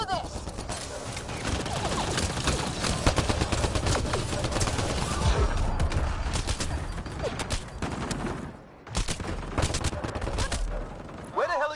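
Sustained gunfire from the video game Mass Effect Andromeda, dense rapid bursts and volleys rattling almost continuously, loud and close, with game voices shouting beneath, briefly dropping off near the end before resuming.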